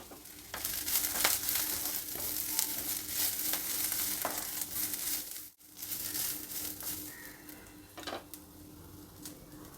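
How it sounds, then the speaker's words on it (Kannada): Onion, garlic, cumin and sesame seeds fry in a pan with a lively, crackling sizzle, stirred with sharp scraping strokes and a brief hush midway. No voices. "ಈರುಳ್ಳಿ ಬೆಳ್ಳುಳ್ಳಿ ಸ್ವಲ್ಪ ಫ್ರೈ ಆಗಿದೆ ಈಗ ಜೀರಿಗೆ ಹಾಕ್ತಾಯಿದ್ದೀನಿ"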